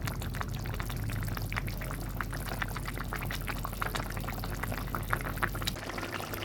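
Pomfret fish curry boils steadily in a pan, with the sauce reducing and a continuous fine bubbling and crackling of simmering liquid close by, alone and without pause.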